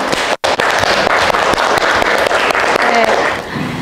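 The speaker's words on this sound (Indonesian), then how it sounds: "Aplaus untuk kita semuanya." A class of students breaks into a burst of applause, dense and steady clapping from many hands close by, briefly cut at the start and tapering slightly near the end.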